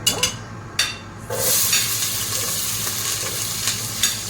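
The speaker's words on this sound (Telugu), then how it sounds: "ఇప్పుడు కూడా ఆనియన్ వేసుకున్నాను ఇది బాగా ఫ్రై చేసుకోవాలి" Onions fry and are stirred in a pan for chicken machboos, steady close sizzling with a few sharp scraping clatters of a spoon against the pan.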